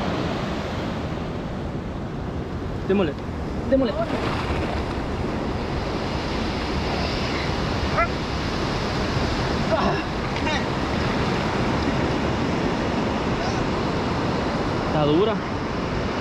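Sea waves and surf at the shore where people are wading in to fish, steady broadband wash with wind buffeting the microphone throughout, while voices speak briefly over it.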